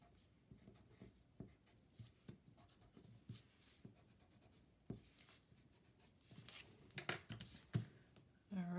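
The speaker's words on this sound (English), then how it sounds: "I'm going to go back and touch up some of the" Pencil strokes touch up lines on a drawing, a quiet, close scratching in irregular bursts that grow busier toward the end, with no talk.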